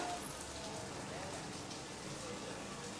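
Heavy rain pours steadily in an Indian holy city during the monsoon season, a dense, even hiss with no breaks throughout.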